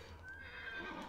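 A horse in Farming Simulator 19 gives a short whinny with faint hoof clip-clop, brief and fairly soft in a game setting.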